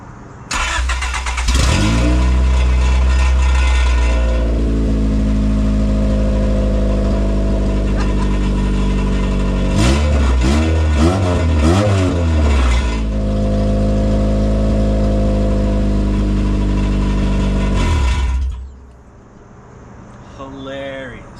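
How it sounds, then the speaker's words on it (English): A Honda CRX running with an open header cranks and catches, then idles loud and raw, with a burst of sharp revving in the middle before settling back to a rumbling idle and cutting off near the end. "Let's see what open header sounds like."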